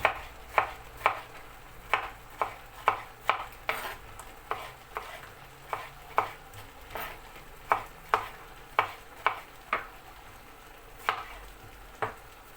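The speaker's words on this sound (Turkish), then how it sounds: "Şimdi kabuklarını soyduğum domatesleri Küp küp onları da yemeklik." Peeled tomatoes being chopped into cubes on a cutting board for a vegetable chicken sauté, a steady series of sharp, close knife knocks at an even, unhurried rhythm with a faint background hum and no talking.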